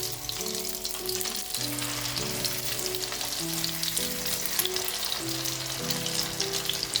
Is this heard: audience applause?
no